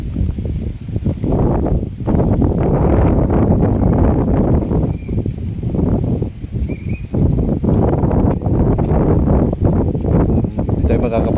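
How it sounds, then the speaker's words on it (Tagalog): Strong amihan wind buffets the microphone outdoors in gusty, roaring bursts, loud and close, with people talking intermittently beneath it. "kaya daw malakas yung hangin na yun, amihan."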